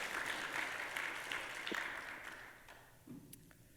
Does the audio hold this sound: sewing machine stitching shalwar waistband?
no